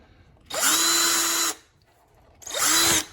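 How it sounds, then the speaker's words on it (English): A power drill whirs up close in two bursts, drilling a hole in a hard plastic cup, the first about a second long, then a brief pause and a shorter second run. "We're just going to drill a hole like that on north, south, east, and west"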